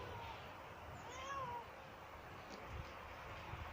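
A cat meows in a caravan, giving one rising and falling mew that is fairly faint and nearby against quiet background noise, followed by a few small soft sounds.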